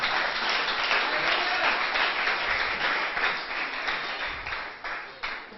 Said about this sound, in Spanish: ¿Cuánto le dan un fuerte aplauso al Señor esta noche?